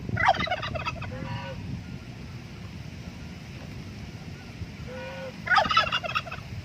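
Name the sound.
turkey gobbling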